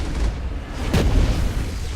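A deep explosive boom in Mass Effect as Geth turrets and armatures are blown up, a single heavy blast rising out of constant loud game rumble.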